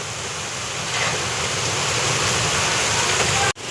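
Rain pours onto the windshield of a truck in a thick, continuous hiss of near droplets, broken only by a brief dropout near the end.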